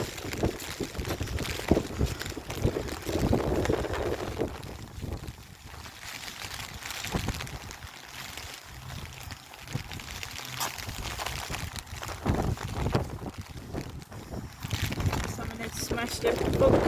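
Strong gusty wind buffets the microphone outdoors in cold rain, rising and falling in rough surges with muffled low rumbles between the louder gusts.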